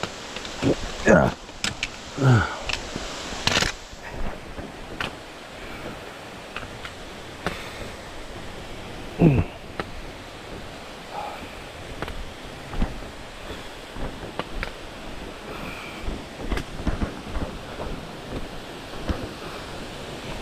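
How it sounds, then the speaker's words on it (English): A waterfall along a wet, slippery mountain trail on Mt. Lafayette gives a steady, broad rush of falling water, with scattered bumps, wind and handling noise over the top. "Another waterfall."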